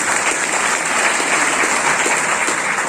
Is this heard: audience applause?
yes